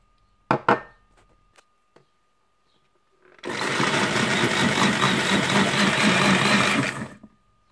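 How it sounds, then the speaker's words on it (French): A kitchen blender purees tomato with onion, parsley and a splash of water. After a few light knocks, a loud, steady motor whir runs for about three and a half seconds, then cuts off abruptly. "Je vais mixer la tomate."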